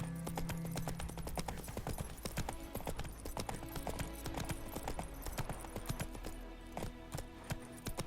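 Geralt's horse Roach gallops in The Witcher 3, with rapid, steady hoofbeats drumming close and continuously, no voices over them.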